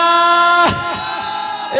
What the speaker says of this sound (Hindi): सिंगनपुर चर्च जोरदार ताली बजाएं, जोरदार जोरदार यीशु के लिए जोरदार ताली